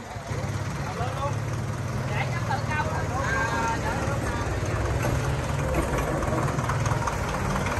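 An engine idles close by with a steady low chugging rumble throughout, while people talk over it.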